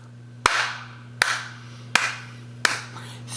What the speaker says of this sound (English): I also do want to give another slow clap for Cornbread